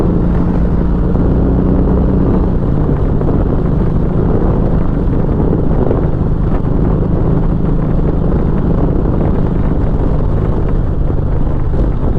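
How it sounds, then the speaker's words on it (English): Wind buffets around a motorcycle helmet at speed, with the upper part of the helmet exposed past a Memphis Shades Road Warrior fairing; a loud, steady roar with low engine drone runs throughout, no talking. "straight away I can feel the wind around my helmet, sort of like that top half of my helmet"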